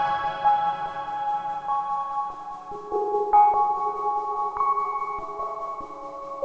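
Modular synthesizer with a Serge triple waveshaper and velocity removed steps through a sequence of steady pitched notes at even loudness, glassy and sustained, with soft clicks where notes change.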